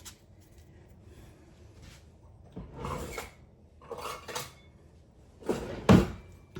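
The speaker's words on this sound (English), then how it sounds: "we're just going to put our buttered crumbs right in the pan and start mashing it down" Buttered crumbs mashed down in a pan to pack a banana pudding crust, quiet scraping and pressing scuffs in a few separate bursts, the last one a louder knock against the pan.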